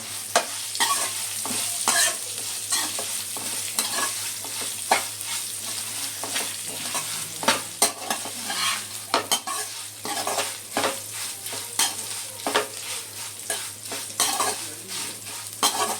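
Ivy gourd pakodas fry in hot oil with a steady crackling sizzle, broken by sharp clinks and scrapes as they are stirred, close and alone.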